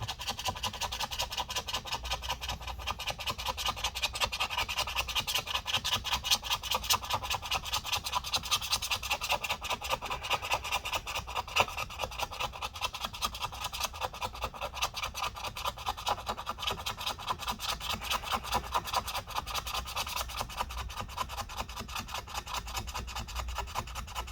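Parts of a 2018 15-inch MacBook Pro A1990 are scrubbed with rubbing alcohol to remove gunk, a steady rapid rasping rub that repeats close up for the whole stretch without voices.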